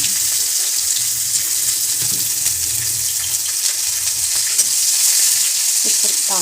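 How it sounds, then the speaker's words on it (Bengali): Chopped onions frying in hot oil with bay leaf in a pan, a steady close crackling sizzle with light stirring scrapes throughout, no talk. "পেঁয়াজ কুচি দিয়ে দেবো"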